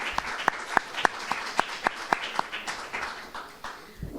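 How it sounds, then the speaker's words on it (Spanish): Scattered audience applause at a war-poetry book presentation: a handful of distinct, sharp claps in a fairly regular rhythm, close and individually audible, thinning out and fading toward the end. "creo que se merece un aplauso y muchas gracias"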